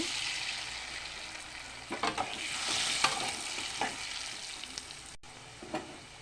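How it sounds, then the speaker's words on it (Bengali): Potato pieces fry in hot oil seasoned with turmeric and salt, giving a continuous bright sizzle with occasional stirring scrapes and clinks. "এ তেলে আমি আলুগুলি ভেজে নেবো"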